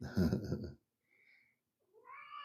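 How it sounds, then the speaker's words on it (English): A pet cat meows twice at home, with a short faint mew and then a longer, clearer meow after a voice stops; both cries are soft and close-by. "And my cat is talking to me, which she does."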